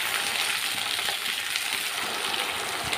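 Chopped pointed gourd frying in hot mustard oil in a pan, a steady bright sizzle with faint crackles and occasional stirring clicks, close and continuous without talk.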